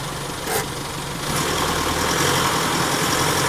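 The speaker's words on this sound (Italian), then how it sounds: "quindi accensione motore" A car engine starting and settling into a steady idle on a harbour slipway, a brief crank followed by a continuous rumble with no talk.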